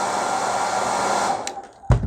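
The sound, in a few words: heat gun warming decals on RC car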